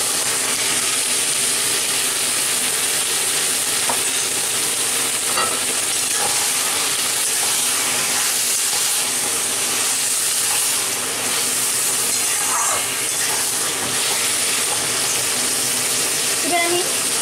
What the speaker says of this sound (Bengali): এবার আমি এতে আমার ম্যারিনেট করে মাংসটাকে দিয়ে দিচ্ছি।